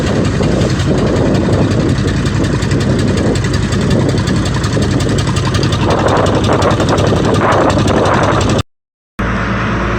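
A boat's engine gives a loud, steady drone with constant rumble and rattling, close by, continuing without pause before a brief cut near the end.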